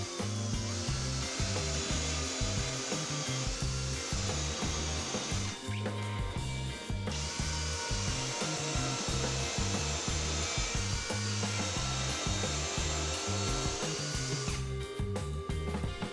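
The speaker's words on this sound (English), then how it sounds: "I hold the piece of melamine firmly and proceed to drill." A power drill with a 35 mm concealed-hinge bit in a jig whirs steadily and loudly, its pitch stepping up and down as it bores into melamine board, with a brief easing partway through.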